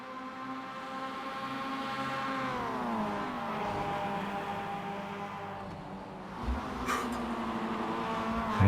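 Race car engines in iRacing at the Nürburgring Nordschleife: several layered engine tones hold steady, then sweep down together as the cars brake, with a brief burst of tyre and impact noise late on. No talking.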